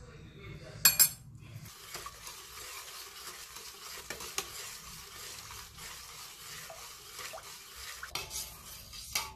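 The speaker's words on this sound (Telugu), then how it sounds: "ఇప్పుడు తురుముకున్న బెల్లాన్ని వేసి బెల్లం కరిగేంత వరకు ఇలా కలుపుకోవాలి." Grated jaggery stirred in a pot until it melts: a ladle scrapes and clinks against the metal, with a sharp clatter near the start and a soft sizzle underneath, close by and without talk.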